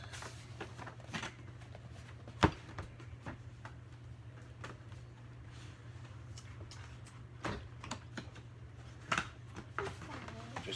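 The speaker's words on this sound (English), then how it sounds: "Just getting it out of the box here" An AC manifold gauge set is lifted from its packaging, giving faint scattered rustles, taps and one sharp click over a low steady hum, with no talking.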